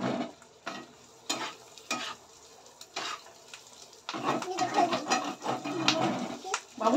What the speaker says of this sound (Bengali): দেখো এবার ভালো করে নাড়িয়ে চাড়িয়ে ভাজবো